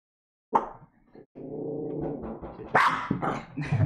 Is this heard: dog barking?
yes